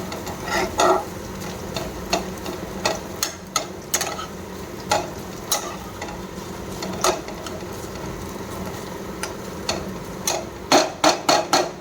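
Steady sizzling of onions and tomatoes frying in a pan, with frequent sharp clatters and scrapes of a spoon stirring against the metal throughout.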